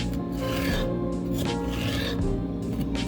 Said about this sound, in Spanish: Durante ese tiempo vamos a ir cortando el pimiento y la cebolla también en tiras pequeñas.